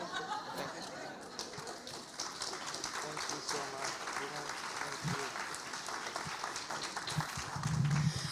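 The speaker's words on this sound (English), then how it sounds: "Another resounding round of applause for our Eldris Frandel Gerard of Crucian Her" An audience at an academic conference gives a sustained round of applause, moderately distant and steady, growing slightly louder near the end.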